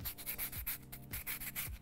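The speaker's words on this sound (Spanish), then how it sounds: "Entonces acá desbastamos y le damos como más delicadeza con la lija." Sandpaper rubs back and forth in quick rhythmic strokes, close and fairly quiet, smoothing a small handmade craft piece.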